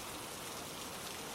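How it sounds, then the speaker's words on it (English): Steady rain hisses through a rainy scene in the survival video game Hurtworld, a continuous broadband wash of raindrops that stays even and unbroken throughout the short moment. "I think that's rain, maybe"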